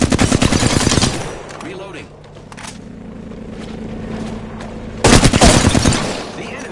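Gunfire in Apex Legends: two loud, close bursts of rapid automatic fire separated by a few seconds of quieter rumbling and clatter.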